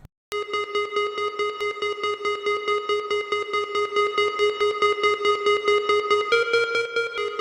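A bright analog fizz lead synthesizer from Logic's stock sounds plays a fast, steady repeating line doubling a xylophone part at twice its speed, panning left to right, with rapid even pulses and no voices.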